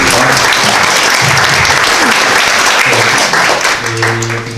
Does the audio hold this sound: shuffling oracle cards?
no